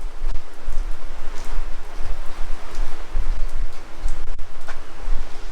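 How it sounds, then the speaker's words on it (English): Steady rain patters and hisses across a surface, with low rumbling gusts underneath and occasional louder drips, fairly close and constant throughout. "It's raining."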